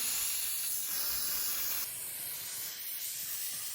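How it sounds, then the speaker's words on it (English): A steady, hissing aerosol spray runs continuously up close into engine parts for cleaning, slightly weakening and sputtering partway through as if the can is running low. "And then you're just going to spray it in there."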